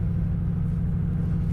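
A 1930 Ford street rod's engine rumbles steadily and loudly, a deep low drone holding constant throughout with no voices over it.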